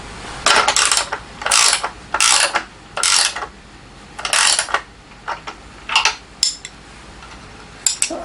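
Socket wrench ratcheting in repeated short bursts while a tubal crane cart is assembled, close and fairly loud with brief pauses between strokes and no talking.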